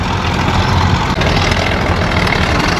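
An old, crude rubber-tired excavator built from a WD or WD-45 tractor idles at a tractor show with a steady, low, rumbling engine drone close by, unbroken and without voices.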